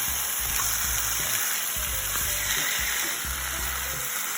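Food sizzles steadily as it cooks on the outside in a pan, a close, constant hiss with soft low bumps of stirring underneath and no talk.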